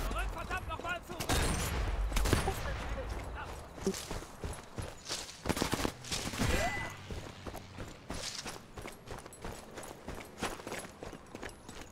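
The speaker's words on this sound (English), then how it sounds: "Someone shooting at me." Gunfire in the shooter game Sniper Elite cracks out in dense, irregular bursts of sharp shots, loud and close, with talk mixed in among the volleys.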